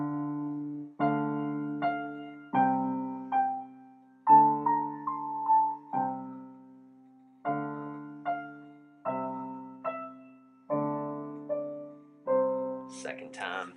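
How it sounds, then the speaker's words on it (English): Chords of a song are played on a piano with a plain piano sound. They come as steady, evenly spaced struck notes that ring and decay, close and clear, with no voices. "So normal piano sound would sound like this."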